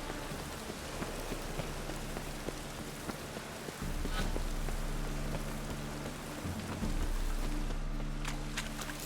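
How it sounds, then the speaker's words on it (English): Steady rain falls in The Witcher 3 video game, a dense continuous patter with a low drone underneath that grows louder partway through. "Rain again."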